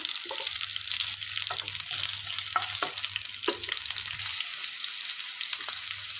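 Green chillies and a couple of dried red chillies frying in hot oil in a pan for a raw banana curry, with a steady close sizzle throughout and occasional stirring clicks, no talking.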